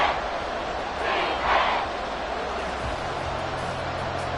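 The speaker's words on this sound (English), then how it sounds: "This crowd doing all they can." A football stadium crowd roars during a late goal-line stand, a broad continuous wash of cheering with a brief swell in the middle, steady and dense throughout.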